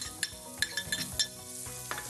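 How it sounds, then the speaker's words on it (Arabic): Onion frying in oil and spices in a pan gives off a faint, steady sizzle, broken by several light clinks and scrapes of a stirring utensil against the cookware. "نقلي فيهم البصله"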